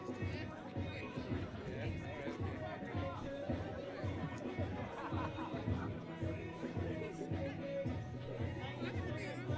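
Crowd chatter at an archery tournament: a steady murmur of many voices with occasional laughter, moderately faint and continuous.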